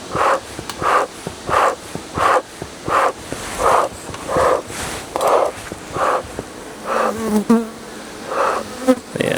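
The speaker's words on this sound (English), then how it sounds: "I've had a lot of bees on me now" Honeybees buzz around a beekeeper at the hive, close passes swelling and fading in a rhythmic series of about a dozen bursts over steady background hum.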